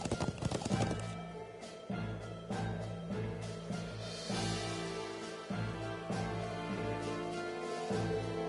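Horse hooves clip-clopping at a steady trot in the Trails of Cold Steel video game, close and clear, over a layered droning music bed, with no speech.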